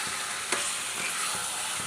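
Potatoes fry in a spicy masala for egg curry, making a dense, even close-up sizzle, with a few soft clicks of stirring underneath and no voices.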